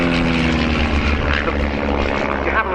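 A vintage de Havilland Chipmunk propeller plane passing at an airshow, a loud, sustained buzzing engine drone with a rough propeller growl that shifts slightly in pitch as it goes by.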